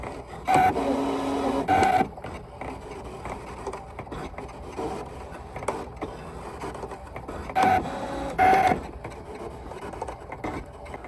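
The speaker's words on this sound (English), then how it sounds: "See how quiet that machine is?" A craft cutting machine cuts out a shape with a quiet, steady motorized whir. Brief louder buzzing bursts of carriage movement rise and fall over a low background hum, up close, with no voices.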